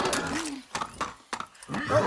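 A horse whinnies in the video game Far Cry 6, a brief rising neigh followed by snorts and gameplay noise, with someone talking over parts of it.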